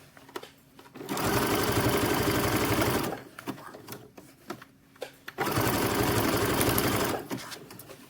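A sewing machine stitches boxer brief fabric in two loud, steady bursts of rapid whirring, each a couple of seconds long, separated by a pause filled with small handling clicks.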